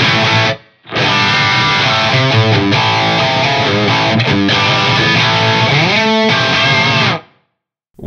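Overdriven electric guitar through an amp modeler with a big room reverb added, playing loud sustained phrases after a brief pause and ringing out into a short silence near the end.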